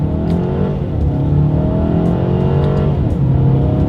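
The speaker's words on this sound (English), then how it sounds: "let's test out the paddle shifters here. All right, we are in manual shift mode in first gear" A 2020 Mercedes A220 accelerates hard in manual paddle-shift mode from first gear, its engine note climbing steadily, dropping briefly at a quick upshift, then climbing again, heard close and loud from inside.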